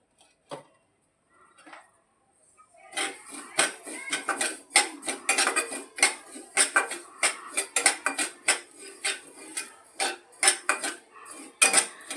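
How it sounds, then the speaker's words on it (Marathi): Poppy seeds dry-roast in a pan while a utensil stirs them, giving quiet scattered clinks at first and then a busy run of rapid metallic scrapes and taps. Nobody speaks. "आता आपण पन्नास ग्रॅम खसखस घेतलेली आहे ती पण भाजून घेत आहोत"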